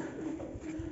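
Pigeons coo in low, murmuring calls outdoors at the castle of the Masovian dukes, a soft continuous throb over steady background noise.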